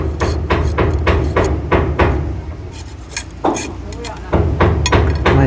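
Hammer blows ring out while a house roof is being built, loud sharp strikes in quick regular runs with short pauses, and people talk in between.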